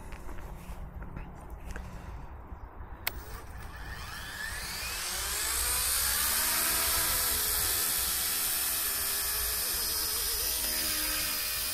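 Small RC training helicopter in six-axis gyro-stabilised mode spinning up for take-off, a rising whine with rotor whoosh and hiss that grows steadily louder and holds close and strong, with light handling noises first.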